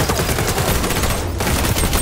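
Continuous rapid automatic gunfire in the XDefiant shooter, loud and close, a dense unbroken rattle of shots with a brief dip near the end.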